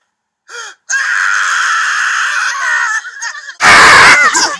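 Cartoon phones scream in a loud, wavering, high-pitched wail lasting over two seconds, after a brief shorter squeal, ending in a harsh, noisy burst of shrieking.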